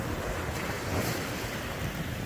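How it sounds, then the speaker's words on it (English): Heavy rain pours down on a beach on a wild, windy morning, a steady, dense hiss blending with surf and wind buffeting the microphone, with no voices. "it is pouring down on Monday morning"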